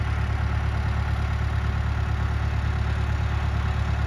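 An old tractor engine runs steadily on an icy day in the Lake District, idling with a constant low rumble and no speech over it.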